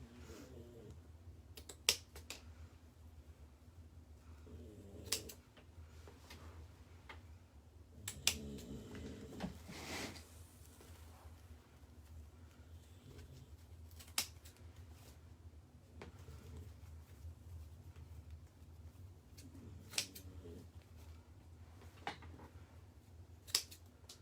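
Scissors cutting wreath ribbon at an angle, sharp isolated snips repeating every few seconds, close and crisp against a quiet room with faint rustling of ribbon between cuts.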